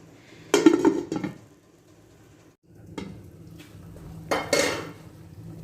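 A metal lid clanks onto a cooking pot of simmering red beans, with two sharp clattering knocks and a lighter clink between them in a quiet kitchen.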